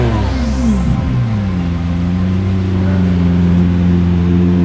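Vintage race car engine at the Pittsburgh Vintage Grand Prix, revving loudly up close, then settling into a steady throaty drone that holds for several seconds.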